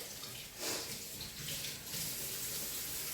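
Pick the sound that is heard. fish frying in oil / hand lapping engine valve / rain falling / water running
water running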